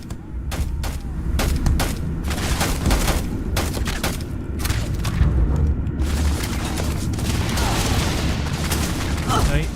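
Rapid, dense gunfire and booming impacts from the Starfield space video game, a steady barrage of loud shots running throughout, with players talking over the action.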